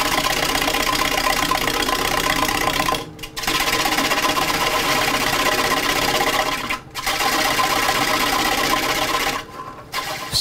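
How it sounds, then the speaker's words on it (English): A bowl blank spins on a wood lathe as a tool rides the surface shaping the top of an arched bowl, giving a steady, loud whirring drone with brief dropouts where the cut lifts off. "So I'm doing my best David Ellsworth impression riding the lathe here."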